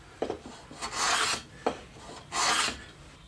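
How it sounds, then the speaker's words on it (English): A low angle block plane cuts 45-degree chamfers along the edges of a wooden lid, guided by a chamfer jig. There are four or five close, rasping strokes, each a short whoosh of shaving with a light knock at the start, and no talking. "using a low angle block plane and my chamfer guide that I demonstrated here on the show not too long ago, I'm just going to put a nice 45-degree chamfer"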